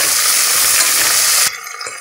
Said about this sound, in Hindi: काजू किशमिश ऐड कर लेंगे। हल्का सा फ्राई कर लेते हैं।